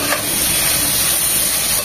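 Onions and capsicum frying in a pan for white sauce chicken pasta, a steady close sizzle and hiss running throughout with no talking.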